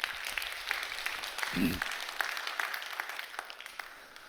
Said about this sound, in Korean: 여러분 다시 한번 박수 한번 해주셔요.